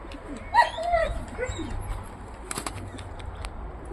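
Pigeons flap their wings in short bursts close by, mixed with brief bird calls and coos over a low background rumble.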